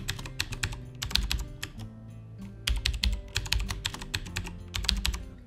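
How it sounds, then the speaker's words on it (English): Bursts of rapid clicking keystrokes on a computer keyboard as a password is typed, close and clear, in irregular clusters with short pauses between them. "we'll type in one password."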